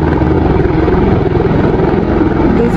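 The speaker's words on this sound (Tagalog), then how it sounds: "Balik na yan ang helicopter eh" A helicopter flies overhead near a mountain where hikers and climbers are. Its rotor throbs as a loud, steady, low drone for the whole stretch, close and dominant, with no talking.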